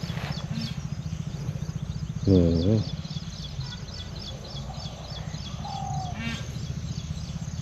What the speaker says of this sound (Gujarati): જો મોરનો અવાજ આવે છે.